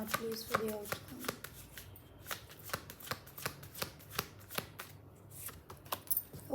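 Tarot cards shuffled by hand, giving a rapid series of crisp riffling clicks and soft slaps in an uneven rhythm, close and fairly quiet, with a brief voice near the start.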